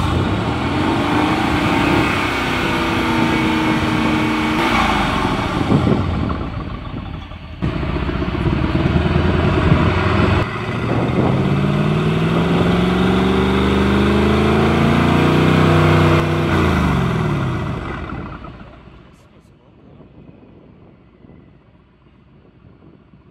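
A Mercedes GLC 63 AMG engine fitted with tuning downpipes revs hard several times, rising and falling in pitch with a loud, raspy exhaust note, then settles to a quieter idle near the end.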